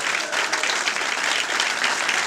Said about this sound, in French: je suis sûr que vous allez applaudir